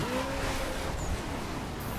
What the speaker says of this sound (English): That was the worst spin out ever.